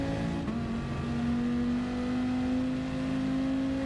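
A Dodge Viper Gr.3 race car engine at Spa Francorchamps in Gran Turismo holds a loud, steady high drone with a slight pitch rise, continuous throughout with no voices.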